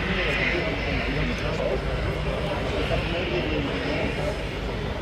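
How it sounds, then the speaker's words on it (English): A Boeing C-17A Globemaster III of the US Air Force makes a slow flying-display pass at Volkel with gear down and flaps extended, a steady loud jet roar filling the whole stretch with faint voices underneath. "So the aircraft lines up for a slow pass with the gear down and the flaps extended."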